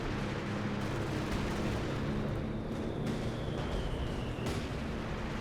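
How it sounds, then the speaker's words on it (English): Artillery fire, including ML-20 howitzers, rumbles across a battlefield in the game Company of Heroes 2, a dense low roar of overlapping distant booms and blasts with a sharper crack near the end and no talk. "Artillery's just absolutely devastating."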